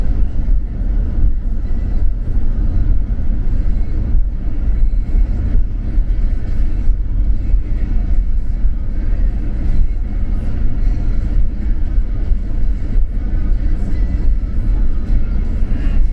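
A car cruising at about 45 mph on an open road, giving a steady, loud low rumble of engine and tire noise that holds level throughout with no talk.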